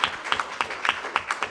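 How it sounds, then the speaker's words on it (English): Brief applause from a conference audience at the closing of a disinformation event, sparse and uneven with a handful of distinct claps spread over a moment, fairly quiet and without talk. "I think this is worth a little short applause."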